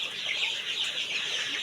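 Chicks about sixteen days old, sick with diarrhoea and drowsiness, cheep and cluck in a steady, fairly close chorus with no talking.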